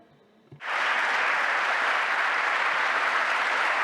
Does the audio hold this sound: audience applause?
yes